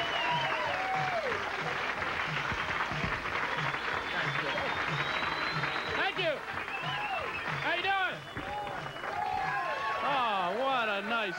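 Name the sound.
comedy club audience applause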